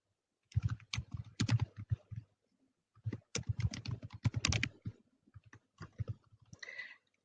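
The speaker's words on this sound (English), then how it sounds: "type the bit.ly thing in here" Close computer keyboard typing of a web link in two quick runs of clicking keystrokes with a short pause between, no talking.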